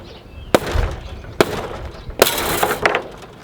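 Coiled high tensile electric fence wire, being installed on a rigid PVC fence system, springs loose as it is cut: three sharp snapping cracks followed by rattling metallic jangles, close and fairly loud with no talking.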